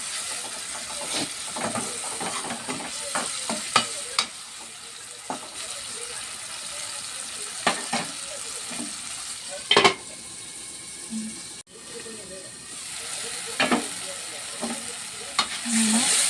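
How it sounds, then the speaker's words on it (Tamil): Shrimp sauté in a pan with a steady soft sizzle, punctuated by sharp clinks and scrapes of stirring, fairly quiet and close. "எறா கொஞ்ச நேரம் வதங்கட்டும்."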